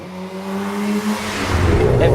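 A 2018 Mazda rotary engine revs up close and loud, its smooth buzzing tone climbing steadily in pitch over a couple of seconds.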